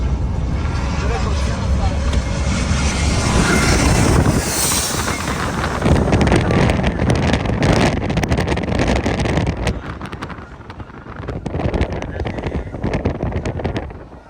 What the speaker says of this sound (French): On a un avion juste là.